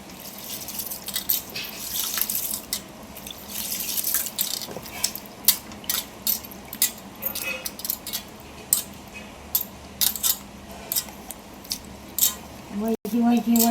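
Poppy seeds are rinsed in water, with splashing, dripping and faint clinks of a vessel in a home kitchen, close and uneven, while a voice talks over parts of it.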